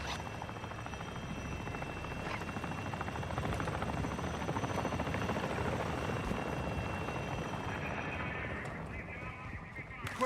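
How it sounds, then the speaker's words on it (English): Enemy attack helicopter in the game DMZ, a steady loud rotor thrum and engine roar holding close for the whole stretch, with a faint radio-style voice underneath. "Be advised, the enemy attack helo is approaching your location."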